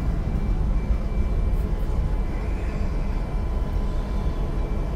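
CSX locomotive 5446 hauling a 90-car corn train: a steady, low, rumbling drone with a faint high whine, constant and fairly loud throughout.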